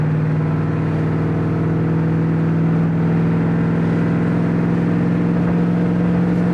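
A 1963 Ford Galaxie 500 Fastback engine pulls steadily as the car accelerates down the road, a loud, continuous hum that holds near and even throughout.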